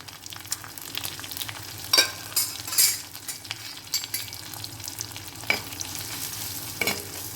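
Spice powders sauté in hot oil for a lemon curry, a soft continuous sizzle broken by scraping stirs and light clinks of a spoon against the pan, close and without talk.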